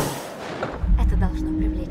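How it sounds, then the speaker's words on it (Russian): A flare gun fires in the Until Dawn video game with a low, booming burst partway through, followed by a rumbling rush and a faint sustained tone. "Сигнальный пистолет."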